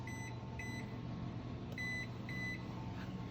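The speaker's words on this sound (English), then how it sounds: "I usually set the timer for 15 minutes." An oven timer gives four short, high electronic beeps in two pairs while the timer is set, heard over a steady kitchen hum.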